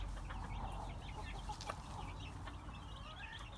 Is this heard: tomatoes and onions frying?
no